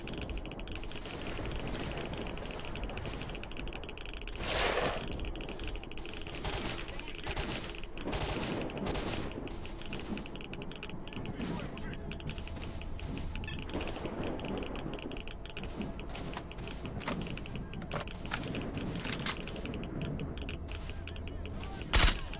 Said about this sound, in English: VLA assault rifle.